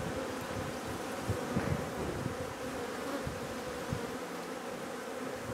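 Bees buzz steadily around a hive, a dense close swarm hum with small swells and no voices.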